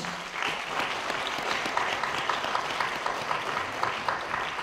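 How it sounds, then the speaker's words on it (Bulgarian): A crowd applauds at the Avgustiada 2016 wine festival in Stara Zagora during a queen pageant, with dense, even clapping that holds steady at moderate loudness throughout. "Моля за вашите аплодисменти още веднъж."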